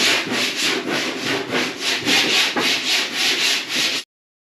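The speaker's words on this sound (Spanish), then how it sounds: "lijaré toda la sobrecarga con una lija más gorda" Coarse 80-grit sandpaper rubbed by hand over body filler on a badly damaged car bumper, a close, rhythmic series of about a dozen rasping back-and-forth strokes that stops abruptly.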